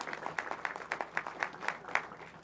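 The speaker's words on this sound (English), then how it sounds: "So let's give him another round of applause." Applause for a librarian at a city council meeting, a steady run of hand claps from a seated audience in a chamber, moderately loud and continuous without voices.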